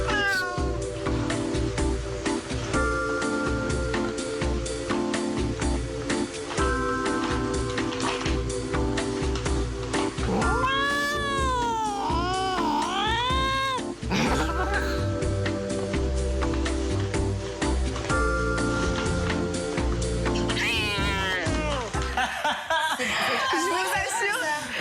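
A cat meows repeatedly while playing with a plastic bag, the rising and falling cries standing out midway over steady background music, with laughter-like sounds around them.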